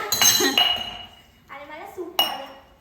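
A steel spoon clinks against dishes in a home kitchen where Maggi noodles are being cooked: a few bright, close metallic chinks with ringing tails, spaced apart, with a voice talking between them.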